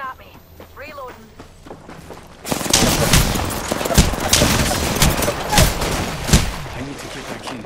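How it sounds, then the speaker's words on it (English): Rapid gunfire and weapon clatter from an Apex Legends ranked arena match, loud dense bursts with footsteps, after a stretch of quieter game sound and talking. "Taking fire!"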